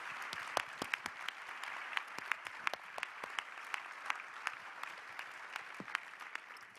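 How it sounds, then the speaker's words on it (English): Audience at a national business meeting applauds steadily, dense clapping with a few sharper individual claps standing out, moderately distant and continuous throughout with no voices. "So let's all give them a round of applause."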